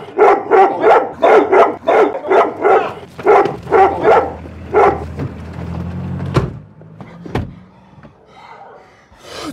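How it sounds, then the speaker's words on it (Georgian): A dog barks loudly and close in a rapid string of about a dozen barks, then falls quiet while a couple of sharp door-like slams and thuds follow, in a Georgian film scene. "მე დამდევს ეს ძაღლი"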